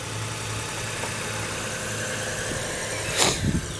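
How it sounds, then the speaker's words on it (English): A 2006 Toyota Highlander Hybrid engine idles after a rebuild, a steady low rumble close by, with a brief louder surge near the end. "In a few seconds the motor will start right on up like it's supposed to."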